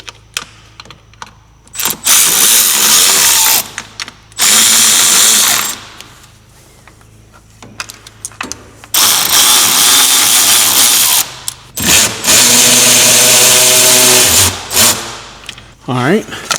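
A Milwaukee electric ratchet buzzes in several short loud bursts while removing 10mm bolts, close up, with someone talking in the pauses between runs.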